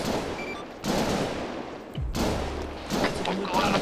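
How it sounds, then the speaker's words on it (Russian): Bursts of automatic gunfire crackle in Arma 3, several loud volleys separated by brief gaps, with a voice talking underneath. "Он в кого-то там сейчас стреляет."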